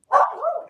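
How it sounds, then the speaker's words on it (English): A single short dog bark, close and loud, rising then trailing into a brief whine-like tail, with no other sound around it. "My dogs are talking."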